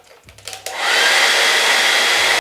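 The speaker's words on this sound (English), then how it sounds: "blow dry the end of your curlers so they go like a little bit hot" A hair dryer clicks on and roars steadily up close, blowing hot air onto the end of an eyelash curler with a loud, even whoosh before cutting off.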